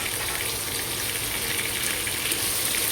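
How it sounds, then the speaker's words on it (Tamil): Cut raw mango pieces sautéing in a pan for a village-style mango kulambu, a steady dense sizzle throughout, close and even, with no talking. "இப்போ நம்ம கட் பண்ணி வச்சுருக்கிற மாங்காயை போட்டு கொஞ்சம் வதக்கிக்கணும்."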